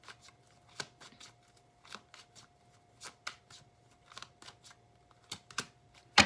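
Tarot cards being shuffled in a quiet room, a series of soft riffling bursts and slaps at irregular intervals, close and fairly faint, with no talking.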